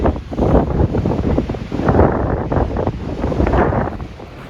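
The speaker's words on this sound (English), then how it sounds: "the wind's still a little bit intense, but not feeling it too much here, but you can hear it maybe" Strong wind gusts over a rocky mountain trail on the Pacific Crest Trail between Kennedy Meadows and Kearsarge Pass, buffeting the microphone in a loud, continuous roar that swells and eases with no voices.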